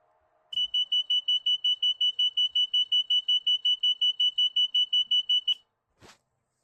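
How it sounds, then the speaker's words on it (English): A traffic light push-button beeper, rated 6 to 28 volts, gives a rapid run of evenly spaced high electronic beeps for about five seconds, then falls silent, followed by a short click. "So the button has a 6 to 28 volt beeper."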